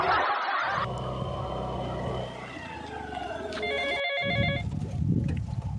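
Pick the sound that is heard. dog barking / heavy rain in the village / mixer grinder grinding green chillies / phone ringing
phone ringing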